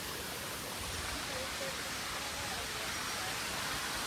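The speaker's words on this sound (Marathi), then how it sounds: "कसा आहे धबधबा?" Waterfall at Bhimashankar, a steady close-up roar of falling water that fills the whole stretch with dense, unbroken rushing noise.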